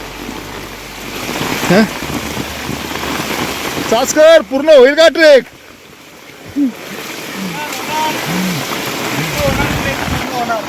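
Heavy monsoon rain hisses steadily through dense forest on the Aadrai jungle trek, a wash of falling water heard close around people who talk over it intermittently.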